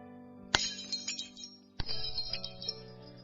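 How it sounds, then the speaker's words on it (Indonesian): Large flower vase smashing on a hard marble floor, two sharp crashes each followed by ringing, tinkling shards scattering and settling, close and bright. "Seketika itu juga terdengar suara meriah akibat benturan vas bunga dari lantai marmer yang sama-sama keras."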